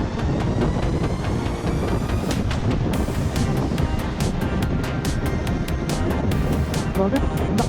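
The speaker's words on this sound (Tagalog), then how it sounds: "lakas pala ng hangin dito" Strong, steady wind buffets the microphone outdoors, likely while riding a Zontes 400G adventure motorcycle, with a constant roar, broken by occasional sharp gusty bursts and a rumbling, vehicle-like background.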